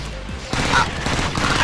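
Gunfire in the video game Call of Duty 4 during a Gun Game multiplayer match, a rapid spray of shots close and loud, with someone talking over it.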